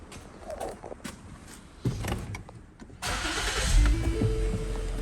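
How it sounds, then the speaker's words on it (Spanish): A 2009 Lincoln with a P0305 cylinder-five misfire and a replaced ignition coil cranks briefly and starts, settling into a loud, steady idle close by after a few quiet clicks. "Voy a prender el carro."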